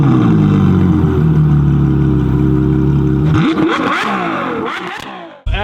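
A V12 Ferrari fitted with a Novitec exhaust idles loudly and steadily, then is blipped through several sharp rising and falling revs before cutting off abruptly, close and loud with no speech.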